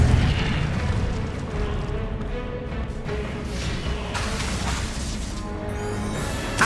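Incendio fire spell cast in the Hogwarts Legacy video game, a sustained roaring, crackling burst of fire that stays loud and dense for several seconds with rumbling low end.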